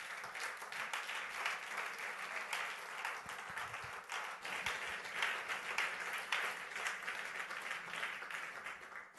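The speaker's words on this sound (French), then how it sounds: "Acclamons très fort le Seigneur" A church congregation claps and applauds the Lord, a dense, sustained wash of hands at moderate distance with a faint murmur of voices in the hall.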